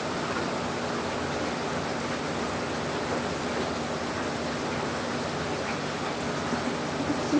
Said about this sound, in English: is it raining? Yeah, it's raining.